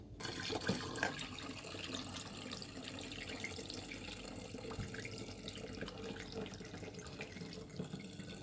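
Fermented peach and ginger wine is poured from a tilted tank into a bottle, making a steady, splashing liquid stream that runs throughout with no talking.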